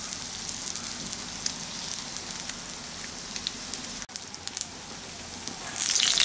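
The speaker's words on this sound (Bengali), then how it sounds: "এখন এগুলোকে ঘুরিয়ে ফিরিয়ে একটু বাদামি রং করে ভেজে নেব।" Puffed rice pakoras fry in hot oil, giving a continuous, close crackling sizzle with scattered pops and no voices.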